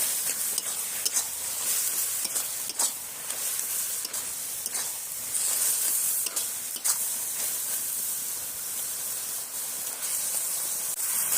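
Taro leaves with sugar being stirred in a pan as the water cooks off, a continuous steamy sizzle broken by repeated sharp scraping strokes of a spoon, close and moderately loud, no voices.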